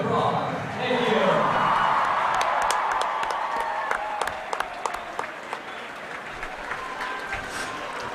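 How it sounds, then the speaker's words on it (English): Applause and scattered cheers from a crowd at a state high school swim finals, loud clapping that swells early then gradually thins to lighter scattered claps, with a few whoops. "Let's get one more round of applause."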